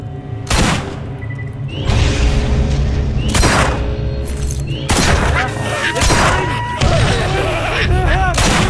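Repeated heavy grenade blasts and bursts of gunfire in the video game Borderlands, loud sharp booms spaced a second or two apart over ongoing combat noise, with a voice talking now and then.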